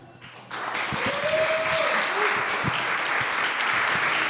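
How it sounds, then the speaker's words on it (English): Audience applause for a team at the final presentations of an EdTech hackathon. It swells in after half a second into a dense, loud, sustained wash of clapping, with a faint voice and a few sharper claps under it. "clap your hands for Ilana, Fabio, Beluzzo, and Eduardo"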